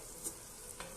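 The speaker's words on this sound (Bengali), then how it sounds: "এবার আমি ভালো করে ভেজে নেব লাল লাল করে" Drumstick flower fritters fry in hot oil with a faint, soft sizzle, broken by a couple of brief crackles as the batter is stirred in the pan.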